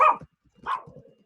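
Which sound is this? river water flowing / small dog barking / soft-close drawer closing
small dog barking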